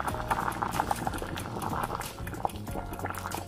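Pieces of beef simmer in a pot of boiling water, steady bubbling and popping running throughout at close range, with no talk over it.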